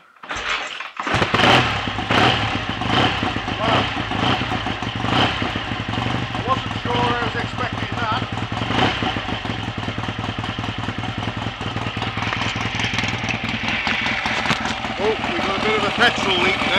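A BSA A65 Thunderbolt motorcycle engine fires after a short quiet start and then runs steadily and loudly at close range, with people talking over it.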